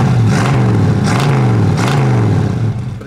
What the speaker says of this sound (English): we'll rev it up a little bit